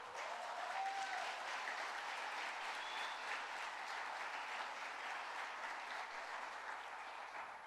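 A church congregation claps for young people who read the whole Bible, a dense, steady wash of many hands that stays even from start to finish, heard from a distance and fairly quiet.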